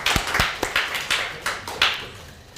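A small church congregation at a Korean Sunday service claps to welcome first-time visitors: a handful of separate, sharp claps in a loose, uneven rhythm, close and fairly loud, with no speech.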